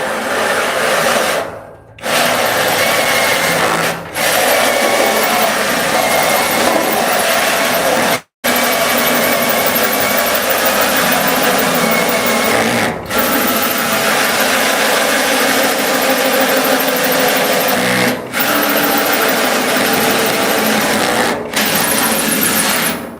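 A cordless drill driving a large bit through sheet metal on a 1968 custom VW, a steady, loud grinding whir that runs almost unbroken for over twenty seconds, with a few brief pauses between bursts.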